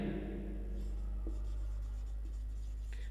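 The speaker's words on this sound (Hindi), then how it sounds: "अगर मैं लिखता हूं यहां पर TECH टेक" Marker or chalk scratches faintly across a board in short strokes over a steady low room hum.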